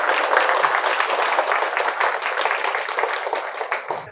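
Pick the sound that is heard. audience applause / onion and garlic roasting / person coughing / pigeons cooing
audience applause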